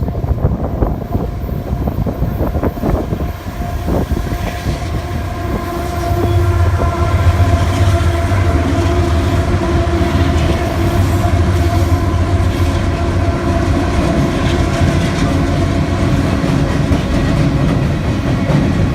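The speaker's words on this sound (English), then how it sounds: "This train's coming. Here it comes." A loud coal train with three engines rumbles past close by, steady heavy rolling and rattling of cars with a low droning hum that builds and holds.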